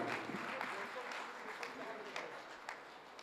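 Audience applause at a Hindi poetry recital (kavi sammelan) welcoming a poet, a steady wash of clapping from a crowd at moderate distance lasting throughout, fairly soft and even.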